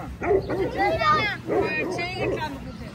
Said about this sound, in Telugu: లోపల డాగ్స్ ఉన్నాయి, చాలా 2 ఉన్నాయి డాగ్స్